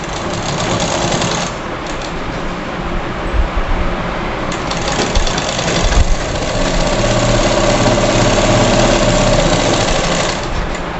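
A sewing machine stitches a seam on a young girl's frock, running as a loud, rapid mechanical whir with a couple of brief pauses and clunks partway through, then a long unbroken run.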